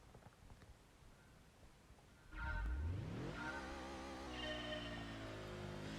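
A Subaru in Gran Turismo 2 roars up from idle with a loud engine rev that climbs steeply in pitch, then holds a steady, buzzing drone at speed, heard alone with no talk.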